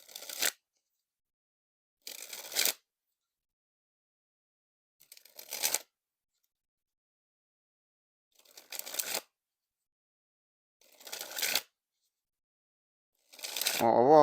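Brown Smokey Bear playing cards dribbled from hand to deck in six short, crisp fluttering bursts separated by silence, close and clear, with a brief voice at the very end.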